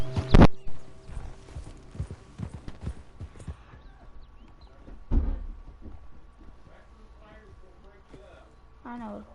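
Horse hooves in the video game Red Dead Redemption 2 clip-clop at an uneven walking pace, with a sharp knock near the start and a person talking over parts of it.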